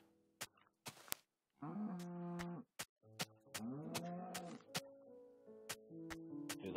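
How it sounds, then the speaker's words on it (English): A cow in a video game moos in several drawn-out calls, separated by sharp clicks and brief gaps, clear and alone without talk. "Dude, look at this cow. He's just going through the wall."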